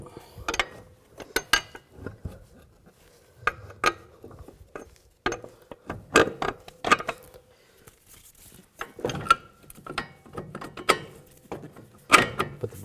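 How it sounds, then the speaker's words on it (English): Metal bolts clink and rattle as they are fitted into the steering knuckle of a 2011–19 Ford Police Interceptor Utility front strut, a series of sharp close taps and scrapes at irregular intervals. "Put the bolts in."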